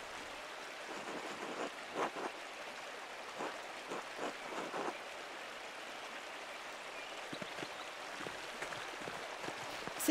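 Steady rushing water from a forest waterfall in the medieval adventure game Pentiment, a continuous mid-level wash with scattered brief splashy accents and no voices.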